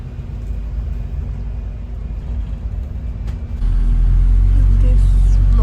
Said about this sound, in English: Literally an empty bus.